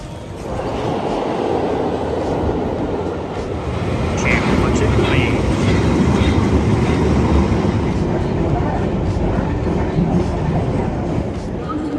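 London Underground tube train in motion between King's Cross and Waterloo, a loud, constant low roar and rumble with faint rail clatter filling the carriage, while people talk over it.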